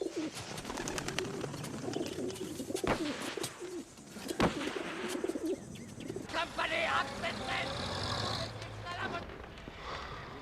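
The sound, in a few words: English carrier pigeon cooing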